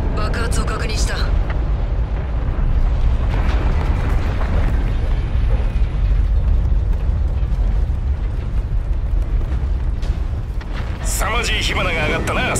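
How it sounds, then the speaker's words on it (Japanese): A huge explosion in the video game Call of Duty: Infinite Warfare, a dense, continuous roaring blast that stays loud throughout with rumbling debris and no speech. "爆発を確認した。"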